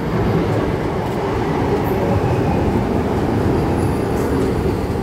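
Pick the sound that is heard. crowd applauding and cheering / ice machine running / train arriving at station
train arriving at station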